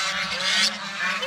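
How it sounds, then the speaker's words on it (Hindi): Loud, harsh honking quacks from a group of fifteen ducks, overlapping and continuous at close range. "ये हैं जी बतखें"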